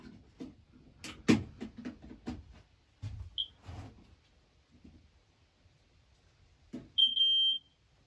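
After some handling clicks and rustles as batteries go in, a Jameson Code One CD-24 smoke alarm gives a short chirp, then later a sharp, piercing beep that holds for about half a second.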